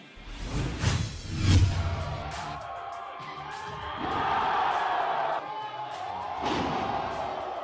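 A crowd at a Filipino pro wrestling event roars and cheers in rising waves, mixed with thuds and sweeping whooshes from the ring, loud and reverberant throughout.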